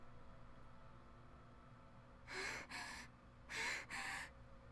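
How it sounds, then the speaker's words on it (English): Sharp breathy gasps from a visual novel character, two pairs of quick gulping inhalations close to the ear, standing out against a quiet background hum. "Tsubaki was gasping for the air with huge gulps."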